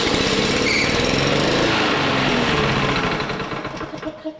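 A small engine runs steadily after its throttle linkages are refitted, a continuous buzzing drone that holds loud and even before easing off slightly toward the end, with no talk over it.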